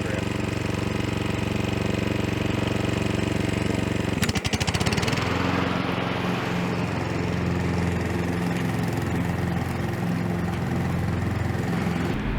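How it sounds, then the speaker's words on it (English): A Honda HRX217HZA lawn mower drones loudly and steadily close by, with a brief rattling clatter partway through before the engine settles back into its continuous hum. "That's our first time using our new Honda HRX217HZA"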